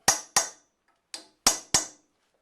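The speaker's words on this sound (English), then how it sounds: "Just going to peen over the clip onto the bolt." Five sharp metallic hammer blows peen a retention clip over a bolt on a 1965 Dodge D100 truck. They fall close and loud in an uneven rhythm, two quick strikes, a softer one, then two more, each ringing briefly.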